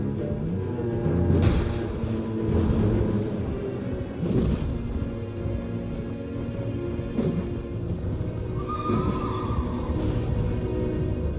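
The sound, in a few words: horse neighing in video game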